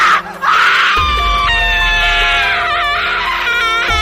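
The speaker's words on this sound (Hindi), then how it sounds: "फिर वह औरत टीना को देखकर जोरों से चिल्लाने लगी" A woman shrieks loudly and continuously in a shrill, wavering scream that holds for several seconds, with a low rumbling drone underneath.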